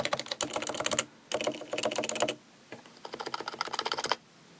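Rapid typing bursts on a Topre HHKB keyboard with a plastic plate, soft thocky keystrokes in three quick runs separated by short pauses, close and fairly reverberant with no talking.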